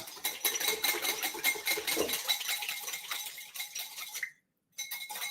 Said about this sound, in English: then we're going to whisk this up